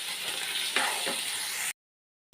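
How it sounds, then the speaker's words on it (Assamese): Tomatoes being stir-fried for a potato and tomato sabji sizzle steadily in a pan, with a couple of brief stirring scrapes, before the sound cuts to silence. "মই ধুনীয়াকৈ লৰাই ল'ম, লৰাই ভাজি ল'ম অকণমান"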